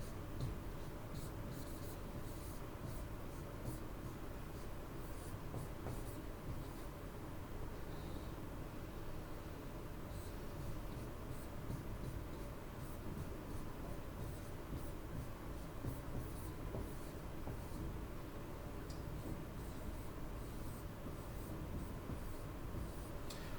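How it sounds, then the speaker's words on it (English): Someone writes words on a classroom board, producing a continuous faint scratching and rubbing sound that keeps up without pause. "So I'll write those on the board real quick."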